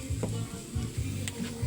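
Onions sautéing in a hot pan for an eggplant dish, a steady close sizzle with soft scraping stirs in short repeated pulses and no voice.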